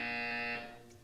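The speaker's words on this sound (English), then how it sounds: "You will hear a buzzer." A loud electronic buzzer from the video game Portal 2 drones as a sustained harmonic tone for about half a second, then cuts off and fades into quiet, with no talking.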